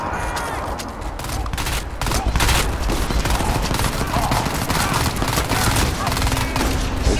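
Rapid bursts of automatic gunfire from the video game Crysis 2, dense and continuous with overlapping shots throughout, loud and close, with a voice talking briefly underneath.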